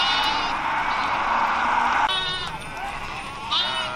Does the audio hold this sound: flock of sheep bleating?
yes